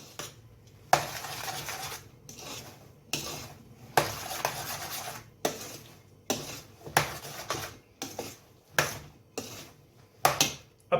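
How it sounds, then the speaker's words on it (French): A spoon stirs diced hake tartare with red onion, spring onion and chives in a bowl, giving about a dozen close, scraping and clinking bursts in an uneven rhythm with short pauses between. "On va mélanger."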